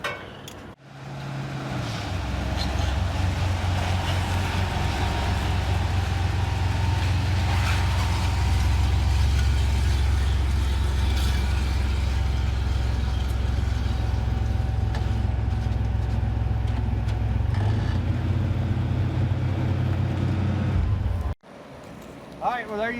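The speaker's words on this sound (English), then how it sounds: "And I just drove it out of the garage." A 1991 Sonoma truck fitted with a Ford 8.8 rear axle idles and rolls out of a garage, its engine holding a steady low rumble for about twenty seconds before cutting off abruptly.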